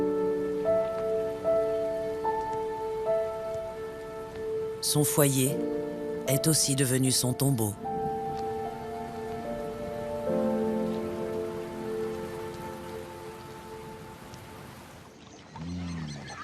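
Rain falls across the African savanna, a steady hiss running under a narrator's voice, with broadband bursts partway through and a sudden drop near the end.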